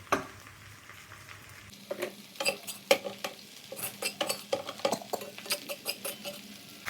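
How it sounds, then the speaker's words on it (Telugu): Okra frying in a pan while being stirred, a quiet background sizzle overlaid with a rapid irregular series of scraping and clinking strokes from the spatula, close up and without voices. "బెండకాయ కొంచెం బాగా వేపాలి"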